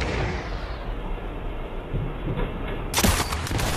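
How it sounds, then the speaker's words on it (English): A sniper rifle shot fires in the VR game Sniper Elite VR, a sharp loud crack near the end over steady rumbling game noise. "Oh my god, the best shot in the game."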